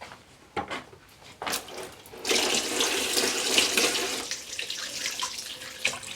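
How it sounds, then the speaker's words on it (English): Cold water pours from a tap into a silver bowl, first in a few short splashes, then as a steady, fairly loud gushing stream that keeps running close by. "it's just running it under the cold tap"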